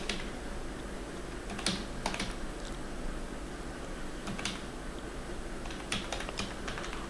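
Numbers are typed on a computer keyboard into an MS Word document, sounding as close, irregular bursts of clicking keys over a steady background hiss.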